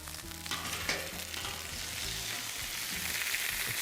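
Tomahawk steak just flipped on a hot grill, hissing in a loud, steady sizzle with faint crackles running throughout, with no voices.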